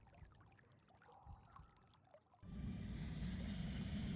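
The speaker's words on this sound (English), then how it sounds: "The sound of fast rushing water fills the tunnels." Fast rushing water in an underground tunnel in the video game Sorcery! Part 2. Quiet dripping and trickling ambience gives way to a loud, steady broadband rush that holds to the end.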